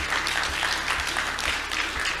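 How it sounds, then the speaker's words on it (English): Audience applause at the closing ceremony of an African women's health conference, a steady, moderately loud wash of clapping filling the room, with a faint low rhythmic thump pulsing underneath. "round of applause"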